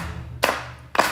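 Two sharp hand claps from an audience clapping along to live music at an art event, spaced about half a second apart over a low background hum.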